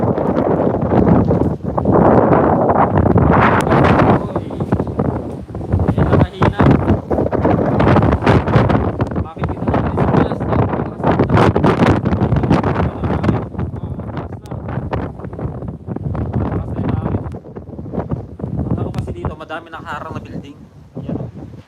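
Strong gusting typhoon wind in Taiwan roars loudly throughout, with buffeting noise on the microphone and a steady wash of rain-like hiss.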